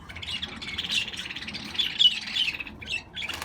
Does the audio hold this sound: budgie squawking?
yes